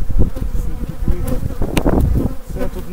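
Honey bees buzz loudly at an opened hive full of brood, a close, dense drone that wavers continuously with sharper passes of individual bees near the microphone.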